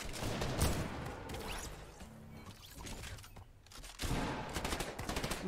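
Fortnite gunfire at Fatal Fields, with repeated bursts of rapid shots crackling in clusters, fairly loud at the start and end with a quieter stretch in between.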